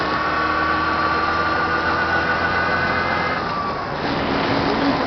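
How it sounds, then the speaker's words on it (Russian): A car with a 638 engine and a new gearbox runs at idle, giving a steady, even mechanical hum with a faint whine and no voices. "Работает коробка."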